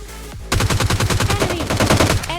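Rapid automatic gunfire from the PUBG Lite battle royale game, a fast, evenly spaced burst of about twenty loud, close shots with no talking.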